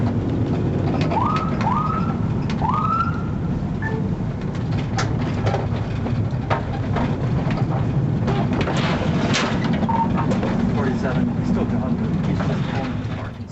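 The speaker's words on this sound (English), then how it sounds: "the officer utilized his siren multiple times in an attempt to gain compliance." A police car siren gives three quick rising whoops near the start, followed by continuous background noise and voices.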